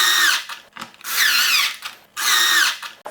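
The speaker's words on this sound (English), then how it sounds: "Okay, so now I'm just going to whiz those 3 screws back in." A power drill drives three screws back into a Mercedes convertible's boot divider in three separate bursts, each with a whining, rising-and-falling motor pitch, with short pauses between them.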